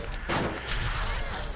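Ion cannon fire in the top-down shooter Crimsonland, two sharp loud bursts about half a second apart over a constant low game rumble, with no talking.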